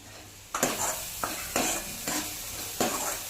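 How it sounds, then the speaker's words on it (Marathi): Onion-garlic masala, homemade spice mix, turmeric and garam masala are stir-fried in oil, with a soft, steady sizzle broken by several rhythmic scraping strokes of a spoon across the pan. "ही छान हलवत तेल सुटेपर्यंत परतून द्यायचंय आपल्याला"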